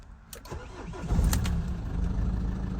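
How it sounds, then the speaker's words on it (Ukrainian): A worn Renault Master van in Germany, with likely tampered mileage, is cranked and its engine catches, rising into a steady, close idle after a short start. "Давайте попробуємо завести. Так, завести."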